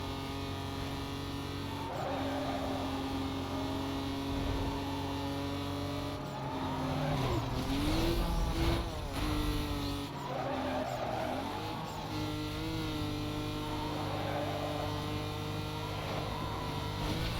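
An Audi TT in Need for Speed Most Wanted skids with a drawn-out tire screech over its droning, revving engine. The squeal swells in the middle and then eases back to the engine hum.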